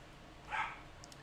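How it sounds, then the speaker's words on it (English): A single faint, distant dog bark sounds briefly in the background of a quiet room, followed by a couple of tiny yips. "I got my dogs playing in the background, so you might hear them barking"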